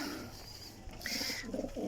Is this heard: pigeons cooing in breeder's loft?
yes